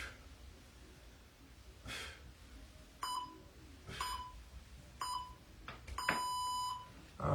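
A workout interval timer sounds a series of short, sharp beeps spaced about a second apart, ending in a longer buzzer tone, fairly faint over a quiet gym background during a push-and-pull exercise class.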